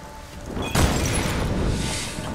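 Explosion in a Tomb Raider game: a sudden loud boom erupts after a quiet lead-in, followed by a sustained crashing rumble of debris that slowly fades.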